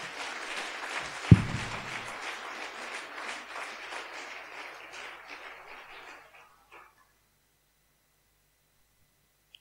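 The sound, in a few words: church congregation applauding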